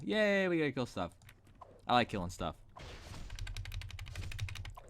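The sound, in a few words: computer keyboard clicking while playing a video game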